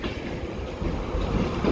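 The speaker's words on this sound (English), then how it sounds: "And there's a 91 roaring away at the back there as well." An LNER Class 91 electric locomotive idles with a steady, loud roar at Newcastle station, a broad continuous rumble that swells slightly toward the end, heard from along the platform.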